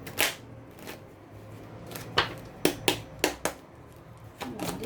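Oracle cards being shuffled for a reading, with a run of sharp, crisp card snaps and slaps in a quick uneven rhythm over quiet rustling, close and clear with no talking.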